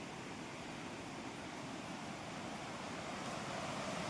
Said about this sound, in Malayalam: ഇവിടുന്ന് ഇങ്ങനെ ആ വെള്ളം ഒഴുകി വരുന്നുണ്ട്